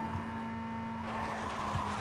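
A Chevy in Need for Speed Most Wanted accelerating hard with tires skidding: a loud, sustained engine drone with a steady high tone, rising into rough, hissing tire squeal in the second half, with no talking.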